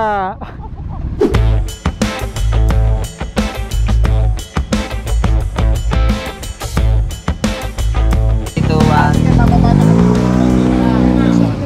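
Many motorcycles ride past at the start of the Boss Ironman 2024 event, their engines revving and roaring loudly in quick bursts, one after another, while people talk excitedly close by.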